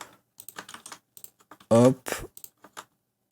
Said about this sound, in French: Désolé pour les bruits de clavier. J'ai un nouveau clavier. Un Millennium.